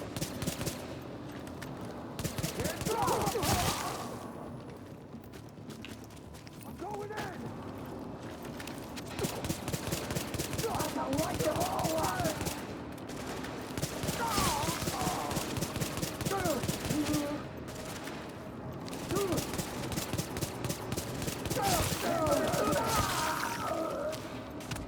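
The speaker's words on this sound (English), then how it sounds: "Dirty headshot sound with this global event." Shooter video game combat with rapid bursts of gunfire and sharp impact hits, including headshot sounds, repeating densely and loudly across the whole stretch in clustered volleys.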